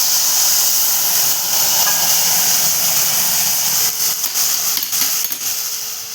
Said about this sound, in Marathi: आता त्यात आपण टाकतोय गरम पाणी.